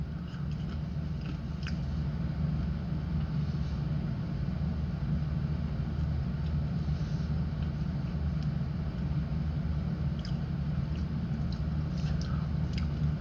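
Steady close-up chewing of dry beef jerky, with a constant low mouthy rumble and faint clicks, continuing without pause and no talking.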